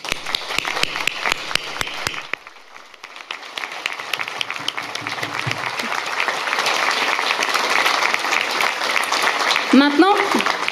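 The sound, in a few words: applause for police, firefighters and Red Cross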